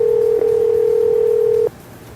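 A steady telephone tone sounds loud and close while a call is being placed, holding evenly for over a second before cutting off abruptly, leaving faint room noise.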